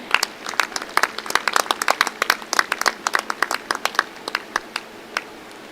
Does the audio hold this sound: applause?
yes